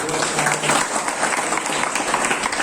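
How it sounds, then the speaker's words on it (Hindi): A church youth audience on Good Friday gives warm, continuous applause, a dense crowd of hands clapping steadily at moderate volume for the whole stretch. "तो एक अच्छी सी ताली हो जाए हमारे लिए"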